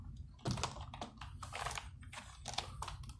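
Clattering keystrokes on a computer keyboard as items are entered into a Microsoft Excel sheet, several quick bursts of close, crisp taps with no talking.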